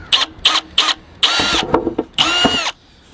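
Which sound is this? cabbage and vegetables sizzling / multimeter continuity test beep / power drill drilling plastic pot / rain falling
power drill drilling plastic pot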